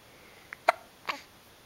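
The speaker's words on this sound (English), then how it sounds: "No, I just got the hiccups." A small child hiccups twice about half a second apart, preceded by a faint catch of breath, all soft and close over a quiet room hum.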